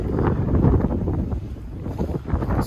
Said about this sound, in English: Of course, I start recording and the wind picks up.